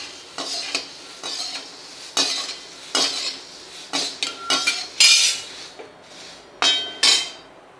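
Roasted poha scraped and tipped into a large metal vessel, with a series of close, bright metallic clanks and rustling scoops, uneven in rhythm and fairly loud.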